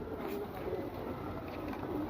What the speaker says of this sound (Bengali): বেরি জেনারেশনের দুইটা কবুতর আছে